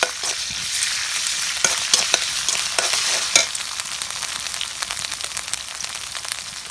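Chillies, onions and ginger-garlic paste fry in a pan over a village cooking fire, giving a steady close sizzle broken by a few sharp scraping clicks from stirring.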